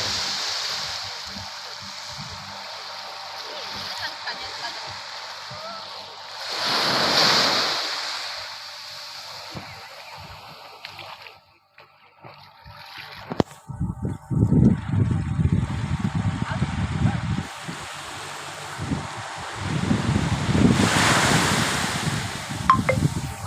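Sea waves and wind on the Gujarat shore, a steady windy rush with surging surf washes, rougher and louder low rumbling breakers in the second half, close to the microphone.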